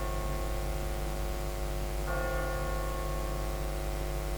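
A single church bell strike in The Walking Dead video game rings out midway and hangs in a long, sustained tone over a constant background hum and hiss.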